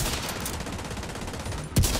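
Gunfire in The Division 2 video game: a dense, continuous burst of rapid shots fills the whole span, capped near the end by one louder, heavier blast.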